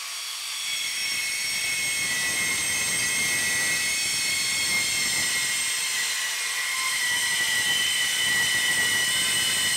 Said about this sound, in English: I'm going to try cutting this piece of stainless box section